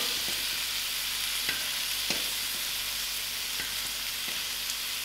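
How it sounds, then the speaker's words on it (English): Tomatoes for a green pawpaw curry cook in a pan with a steady, even sizzle, joined by a few soft clicks of stirring or utensil taps. "I'll allow these tomatoes to cook out properly."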